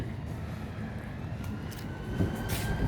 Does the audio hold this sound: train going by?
yes